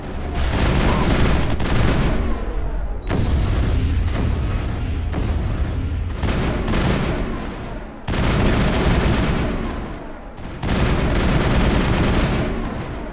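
Gunfire in the video game Mass Effect: loud, dense bursts of automatic weapon fire crackle and boom almost without pause, breaking off briefly at a few points.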